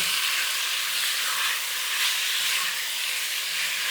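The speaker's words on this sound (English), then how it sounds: "we're just going to seal that meat. Give it a stir, coat it all with the lovely spices and the flavours" Lamb sizzles loudly with spices in a hot pan for a Rogan Josh, a steady dense hiss of frying under gentle stirring, close and continuous with no talking.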